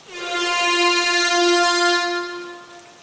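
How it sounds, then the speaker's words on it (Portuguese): A long, deep truck air horn sounds on a foggy road at night, one sustained low blast with a rich stack of overtones that swells and then fades after a few seconds, loud and alone with no talk. "Foi quando ouvi a primeira buzina."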